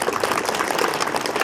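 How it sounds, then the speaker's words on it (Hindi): Loud, dense applause from a school audience in India, sustained and even throughout with no breaks and little talk. "एक बार अपने लिए जोरदार तालियां।"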